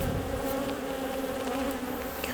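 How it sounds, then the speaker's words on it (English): Honey bees swarm and buzz around an open hive at a lakeside apiary while frames are worked, a dense, steady drone close by with no talk over it. "I want to get the bees off of the honeycomb, back into the hive, with a gentle flicking motion until there are no more bees on the frame."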